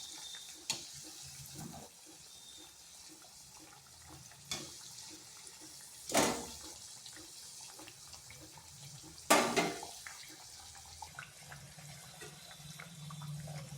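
Potato chops deep-frying in hot oil give a low, continuous sizzle, broken by a few louder crackling bursts as pieces are turned or lifted, close by with no speech.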